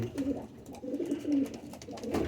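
Kasuri pigeons coo softly in repeated low, throaty phrases, close by, with faint background rustle.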